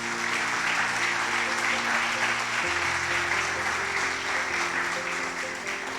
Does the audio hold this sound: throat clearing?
no